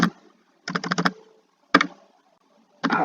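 Bursts of computer keyboard typing while a ChatGPT prompt is entered, close and crisp, with rapid key clicks in three or four short runs separated by quiet pauses.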